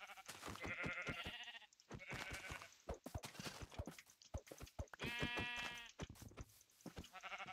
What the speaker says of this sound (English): But on the upside, more sheep.